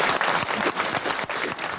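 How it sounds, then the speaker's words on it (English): A hall audience bursts into steady, dense applause welcoming the Countess of Wessex on a royal visit, many hands clapping close and loud without a break. "Please give Her Royal Highness a warm welcome with your applause."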